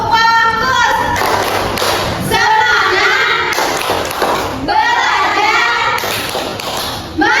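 Rhythmic hand claps from a 'tepuk fokus' clap routine in a sixth-grade Indonesian primary school classroom, with dull thumping beats mixed with a teacher and children chanting in unison.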